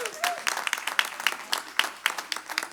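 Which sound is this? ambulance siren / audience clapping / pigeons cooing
audience clapping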